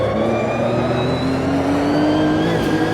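Race car engine in the Automobilista 2 racing simulator, held at a steady high drone with rising harmonic tones as it pulls through a gear, loud and continuous throughout with no talking.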